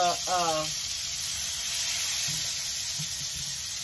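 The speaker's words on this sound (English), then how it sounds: "Frying my onion on up in here. In my bacon grease." Chopped onion frying in bacon grease in a pan, a steady close hiss of sizzling throughout, with a brief voice at the start and faint stirring clicks later.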